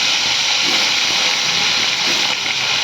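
Large pieces of goroi fish dropped into hot oil in a kadai, giving a loud, steady frying hiss that stays close and continuous throughout.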